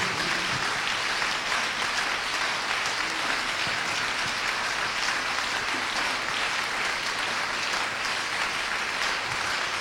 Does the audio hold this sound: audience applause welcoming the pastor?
yes